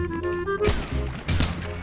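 Heavy in-game gunfire from a powerful 70mm gravity sniper-style gun during a monster battle: two booming, punchy shots about half a second apart, close and loud over a busy game soundtrack.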